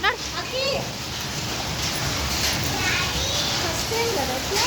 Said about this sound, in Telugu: ఎన్ని రాళ్ళ వర్షం ఫస్ట్ టైం